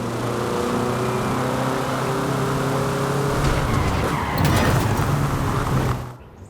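A car in Forza Horizon 5 in Mexico drives loudly with a sustained engine roar, then tires squeal and skid near the end before the sound cuts off abruptly; no one speaks.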